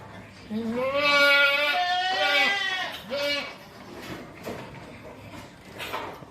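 Goats bleat loudly on a farm in Kamphaeng Phet, Thailand, several drawn-out wavering calls close by in the first few seconds, followed by quieter shuffling and softer sounds.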